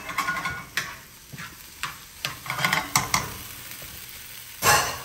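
Tofu sizzles softly in a pan on the stove while a spoon scrapes and taps against the pan in uneven strokes, ending in one louder scrape.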